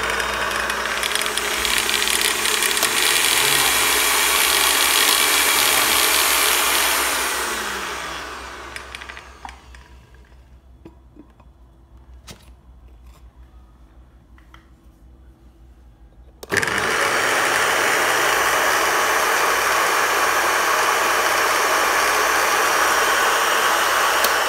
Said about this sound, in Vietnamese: Bây giờ mình sẽ bật khởi động máy.